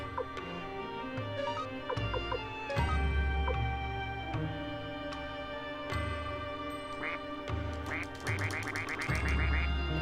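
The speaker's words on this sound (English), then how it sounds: "Quack, quack, quack." Ducks quack repeatedly in the Suikoden video game, a steady string of nasal quacks layered over continuous in-game background music and effects, fairly loud throughout.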